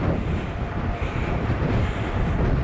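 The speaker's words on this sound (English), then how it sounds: "It's a bit windy." Strong outdoor wind buffets the microphone during a road bike ride, a loud, steady low rumble with gusty swells and no talking.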